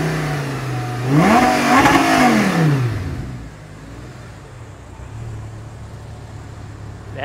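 An Audi R8 V10 engine is blipped once, its note climbing sharply to a loud peak and falling away within about two seconds, then settling back to a low steady idle.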